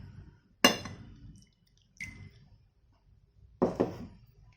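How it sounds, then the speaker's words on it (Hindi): Water poured in short bursts into two bowls of chewed rice, three brief splashy pours separated by pauses, fairly close and clear with no talk over them. "और अब हम इन दोनों बोल्स में थोड़ा थोड़ा पानी डाल देते हैं"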